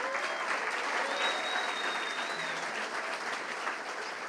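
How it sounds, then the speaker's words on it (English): An audience at a campus event announcing a men's soccer coach gives a round of applause for the band and cheerleaders, a sustained, even wash of clapping from a moderately distant crowd. "Please give the band and the cheerleaders a round of applause."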